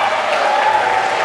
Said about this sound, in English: My mother can hear that applause all the way down in Florida